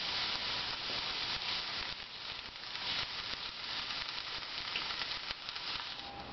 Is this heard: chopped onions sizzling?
yes